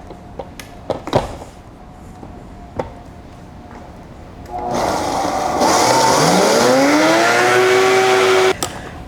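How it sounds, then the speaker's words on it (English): A Vitamix blender whirs loudly as it blends soy milk with saffron, starting after a few scattered knocks and holding a steady motor roar whose pitch rises and then settles before it cuts off. "We're gonna take out our trusty Vitamix."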